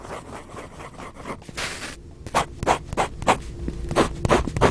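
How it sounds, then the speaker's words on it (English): A fountain pen from a Chinese piston-filler make writes on textured Fabriano paper, giving close, soft scratchy strokes that quicken into a run of short rhythmic scrapes. "For those of you that like to hear the nib on paper,"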